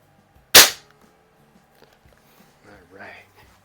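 A single sharp CO2 air rifle shot from a Beeman QB78S or AR2078 .177 bolt-action, loud and close, followed by faint handling clicks and brief quiet voices.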